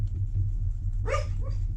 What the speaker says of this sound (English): He's over here dreaming, kicking and growling at something.